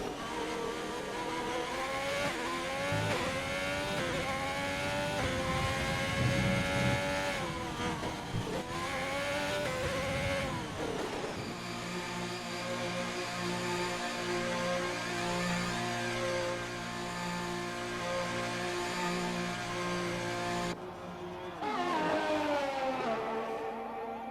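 A Formula 1 race car engine from an F1 video game screams through a flying lap at France, rising through high revs, dropping on downshifts and climbing again, loud and continuous with no voices.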